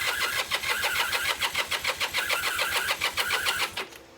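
A 1978 Kawasaki KZ400 motorcycle engine, freshly fitted with new exhaust and carburetors, fires up and runs with a steady, rapid, even pulsing beat close by, then cuts off abruptly near the end.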